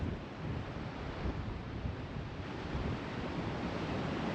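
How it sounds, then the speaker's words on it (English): Sea waves wash onto a Welsh shore on a windy evening, a broad, steady rushing surf with wind buffeting the microphone. "We're going to have the sound of the waves tonight."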